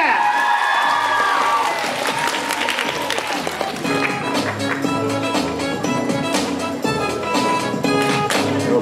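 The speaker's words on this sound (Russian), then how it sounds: "Ваши аплодисменты. Ну, погромче, погромче!" An audience at a cosplay show breaks into applause and cheering, with whoops over dense clapping, while a host's voice can be heard.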